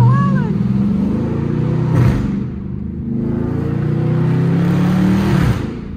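A loud Chrysler 300 SRT engine with catless exhaust rumbles and revs with a deep, raspy exhaust drone, rising and falling in pitch over several seconds.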